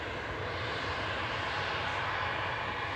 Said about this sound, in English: Next to go, back to Paris Charles de Gaulle, is Air France Hot, flight 1669. This is FHB-LD, an E190LR